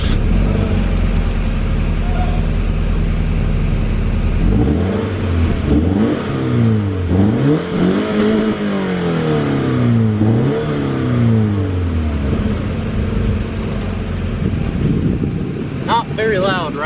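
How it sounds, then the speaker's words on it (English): A stock-exhaust Scion FR-S starts up and idles, then revs repeatedly, the engine note rising and falling in several swells before settling, loud and close with wind buffeting the microphone. "this is what the stock exhaust sounds like, startup and revs on the Scion"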